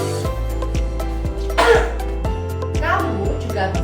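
Two muffled coughs, as if into the inside of a sleeve, come in a clinic's demonstration of proper coughing etiquette, heard over a steady backdrop of rhythmic music.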